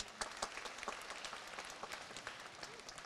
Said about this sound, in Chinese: 是不是可以先来一些掌声呢？